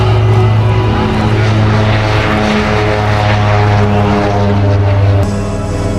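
A propeller aircraft at the Midlands Air Festival drones loud and close with a steady engine hum and prop buzz, fading slightly at the end.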